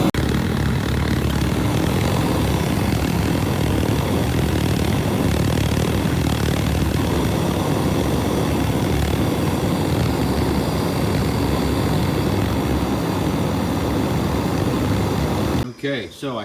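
A mono tube boiler autoclave for grow media roars steadily through its nozzle, a loud, continuous broadband rush that holds for the whole stretch before cutting off abruptly at the end.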